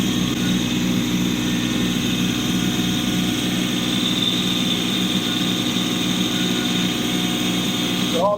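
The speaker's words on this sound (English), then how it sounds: "I'm going to raise the blower up a little bit so I can scrape the ice again." A Kubota compact tractor fitted with a snow blower clears snow off a frozen pond rink, its engine and blower droning loud and steady at close range throughout, with no voices.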